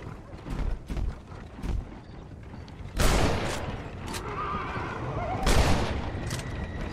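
Bursts of gunfire in the video game Red Dead Redemption crack out in quick volleys, some sharp single shots and a sustained rattle, with background game sounds between them.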